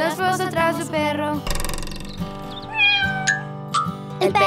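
A cartoon cat meows several times in a Spanish-language children's nursery song, the meows rising over a bouncy musical backing.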